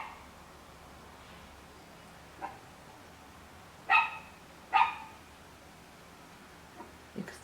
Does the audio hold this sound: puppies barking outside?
yes